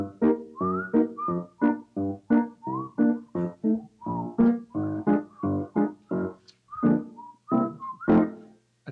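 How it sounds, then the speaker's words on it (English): Someone whistles a 1960s instrumental TV theme, the melody wavering and somewhat breathy, carried in short separate phrases throughout, up close with no other sound. "I told you I couldn't whistle"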